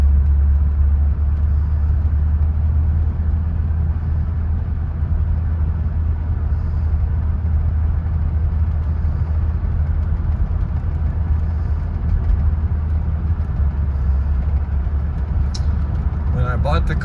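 Inside a 1979 Lincoln Mark V on the move, a low, steady engine and road rumble hums evenly throughout, quiet and unchanging, with no talk.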